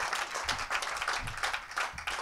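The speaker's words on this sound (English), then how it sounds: "let's give a huge round of applause to these wonderful personalities over here." An audience at a women entrepreneurs' event claps in a short burst, with uneven, pulsing handclaps over a couple of seconds at low level.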